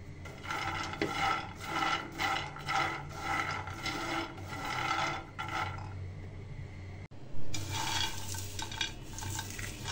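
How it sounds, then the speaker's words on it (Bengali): Roasted peanuts are rubbed together by hand to loosen their papery skins, a rhythmic, close scratchy rustling in repeated strokes, pausing briefly before starting up again. "খোসাগুলো ছাড়িয়ে নিচ্ছি।"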